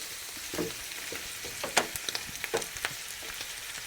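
Noodles tossed into a hot frying pan for a tuna casserole, with steady sizzling and scattered scraping, clattering stirs from a utensil, close and fairly quiet, no talking.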